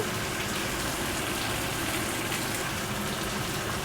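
Taro (kochu) pieces frying in hot oil for a fish curry, a dense, loud, steady hiss of bubbling oil that fills the whole stretch without a break, close, with no voice.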